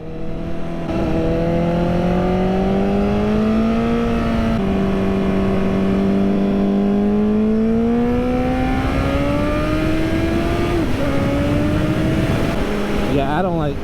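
Honda CBR1000RR and CBR929RR sport motorcycles ride a twisty scenic byway, engines loud and close, pitch climbing and dropping through repeated gear changes over steady wind rush.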